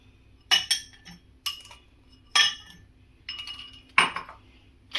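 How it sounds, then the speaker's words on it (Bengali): Pulse candies dropping onto lemon pieces in a glass, several bright, close clinks and rattles in quick irregular bursts with short gaps between them. "লেবুর ওপরে আমি পালস দিয়ে দেবো।"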